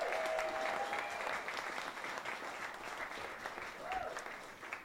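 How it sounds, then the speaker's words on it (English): Audience applause at a community filmmakers' happy hour, a sustained round of clapping from a crowd lasting several seconds, fairly loud and gradually easing, with a voice briefly audible over it. "So please, just one more round of applause for them."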